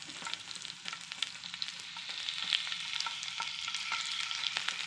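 Fish laid on a bed of curry leaves sizzles and crackles steadily in a hot pan, a close, continuous frying sound with no voices.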